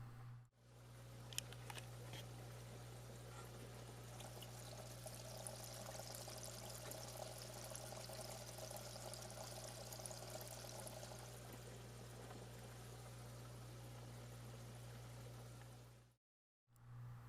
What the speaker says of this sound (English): So I now have that modified sponge filter in the tank, and I'm going to let you guys listen in on what it sounds like.